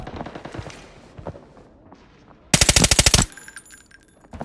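Bursts of M4A1 rifle fire from the Arena Breakout video game ring out loud and close in a rapid automatic volley of about ten shots, preceded by quieter footsteps and movement.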